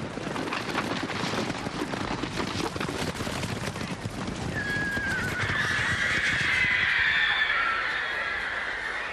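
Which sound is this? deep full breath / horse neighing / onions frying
horse neighing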